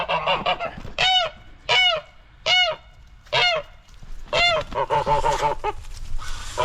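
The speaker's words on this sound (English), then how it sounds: "And all that noise you hear are the geese out here." Loud geese honk repeatedly nearby, a series of harsh calls in short bursts, several birds overlapping toward the end.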